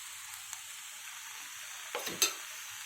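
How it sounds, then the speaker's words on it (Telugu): Cut tomatoes go into a pan of cucumber (dosakaya) pieces cooking for curry, with a steady soft sizzle and a couple of brief stirring clatters near the end. "ఇప్పుడు మనం 2 టమాటాస్ కట్ చేసుకున్నవి కూడా వేసుకుందాం"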